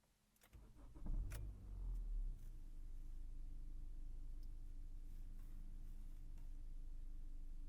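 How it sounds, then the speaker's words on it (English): A 2016 Honda Civic with about 100,000 kilometers starts up, giving a quick cranking catch followed by a brief rise in revs. It then settles into a steady, quiet idle hum heard from inside the cabin, with no talking. "let's start the engine."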